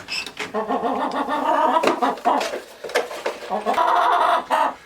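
Several chickens cluck and murmur continuously nearby inside a chicken coop, a busy overlapping chatter of hens at close range.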